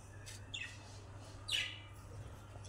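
Budgerigar chicks chirp in a few short, high calls indoors, a couple of brief bursts standing out over a steady low background hum.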